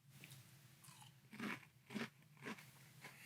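Dry Cinnamon Toast Crunch Peanut Butter cereal crunched and chewed close to the mic, with several loud, evenly spaced bites and crackly chewing and no speech.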